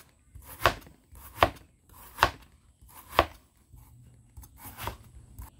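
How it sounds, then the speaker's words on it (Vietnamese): Knife slicing bitter melon into slices about 2–3 mm thick on a cutting board, five crisp, evenly spaced chops close up, each a sharp thud, with quiet gaps between. "Còn nếu như mà mình thích xắt mỏng thì nó sẽ mềm hơn nha"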